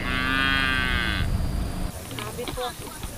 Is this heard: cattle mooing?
yes